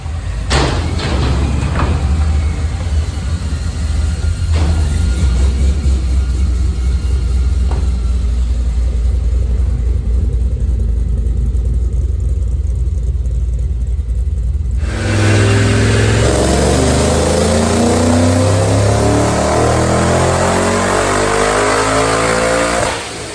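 A supercharged 3-valve 2005-2009 Mustang with a Paxton blower and manual gearbox drones loudly at steady speed on a dyno, then climbs through a long, rising full-throttle pull with the supercharger whine building on top.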